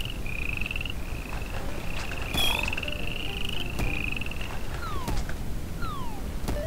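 Cartoonish frog croaks and chirps from a frog-collecting video game, a series of rising and falling electronic calls over a steady busy background, fairly loud with no talking.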